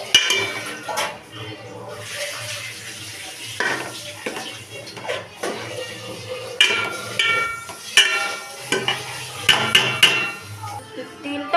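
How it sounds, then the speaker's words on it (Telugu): Spoon stirring oil with salt and chili powder in a cooking pot, scraping and clinking against metal with light sizzling beneath, near and uneven, while someone talks over it. "కలిపేసుకుంటాం"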